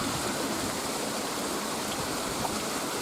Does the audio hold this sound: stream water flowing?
yes